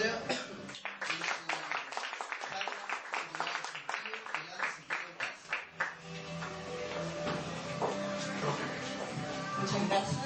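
An indoor audience at a skeptics' conference claps for a doctor, with dense, lively applause that gradually thins out and fades over several seconds.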